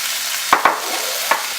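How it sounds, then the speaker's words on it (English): Potatoes fry in a hot pan with a steady, dense sizzle throughout, broken by a couple of quick utensil stirs or scrapes close together and a third one a moment later. "I'm going to put my potatoes in here"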